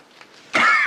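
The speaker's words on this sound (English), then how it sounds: "Excuse me, my cough is getting better." A single sharp cough bursts out suddenly after a quiet moment, loud and close, with a raspy throat-clearing quality.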